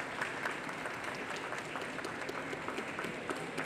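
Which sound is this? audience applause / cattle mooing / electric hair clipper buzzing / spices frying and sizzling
audience applause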